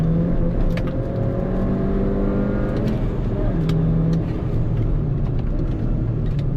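A 2013 Mini Cooper GP lapping a race track, its engine droning loud and steady with rising and falling revs and a whirring drivetrain, heard from inside the cabin at full speed.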